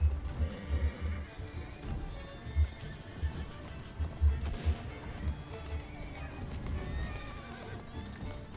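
Video game horse in Assassin's Creed Syndicate: repeated clip-clop of hooves on a street with an occasional neigh, moderately near, mixed with background game noise and some talk.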